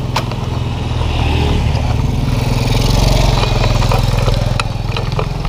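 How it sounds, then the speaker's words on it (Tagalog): A motorcycle engine idles loudly and steadily up close, a low chugging rumble that holds an even pitch throughout with no voices. "Pandarin ko muna yung motor."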